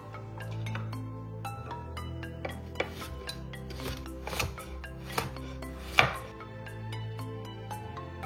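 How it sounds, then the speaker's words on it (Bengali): A knife works through a bottle gourd (lau) on a cutting board, giving a steady series of scraping, rasping strokes with occasional sharper knocks, close and fairly quiet with no talking. "আর এই ফাঁকে আমি লাউটা কেটে নিই"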